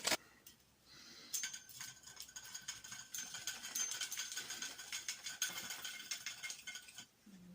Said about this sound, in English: Right, the line is on, we're going to spool it up now.